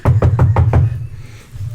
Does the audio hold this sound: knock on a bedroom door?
yes